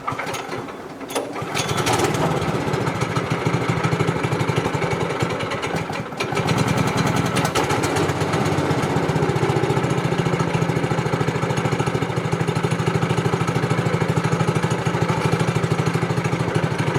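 A 1937 Studebaker engine fires after a brief cranking and settles into a loud, steady idle, with a short stumble partway before running on evenly and close.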